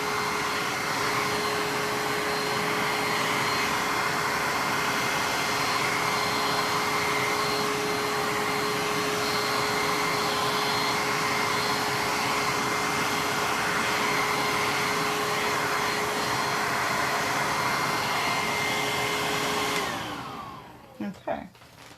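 A hair dryer blows steadily on wet acrylic paint for about twenty seconds, a loud constant whirring with a fixed hum, then switches off and a few faint handling knocks follow.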